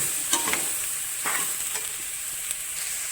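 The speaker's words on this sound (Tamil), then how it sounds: "இப்போ இந்த கட் பண்ணி வச்ச சொரக்காயை போட்டுடலாம்" Bottle gourd pieces sauté in an oiled pan with a steady close sizzle, broken by a few spoon stirs and light scrapes, brief and even in loudness, with no voices.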